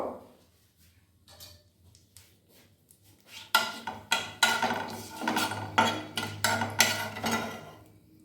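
Dry red chilli and a bay leaf stirred with a utensil in hot oil for a vegetarian raw jackfruit kofta curry, starting quiet then giving a run of sharp, irregular clinks and scrapes against the pan over a low hum.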